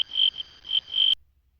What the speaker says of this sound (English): Do you hear crickets?